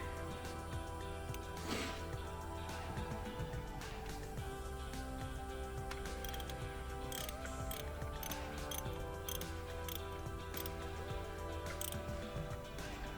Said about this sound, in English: So I get my socket back on there. Set it to tighten.